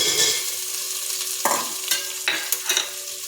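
Chopped ginger, garlic and baby corn frying in a pan for veg noodles, with a bright steady sizzle and a few sharp stirring scrapes up close.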